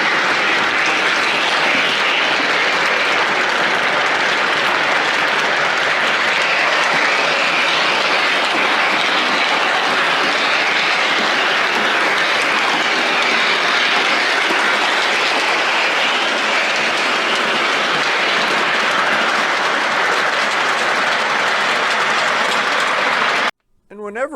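A model railroad train runs steadily for a long stretch, a continuous loud rumble with faint clickety-clack of wheels, ending abruptly.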